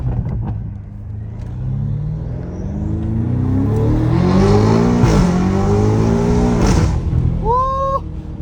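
A BMW M5 Competition with a straight-piped exhaust revs hard, its deep engine roar climbing and swelling loudly before easing off, with a short whoop from a person near the end.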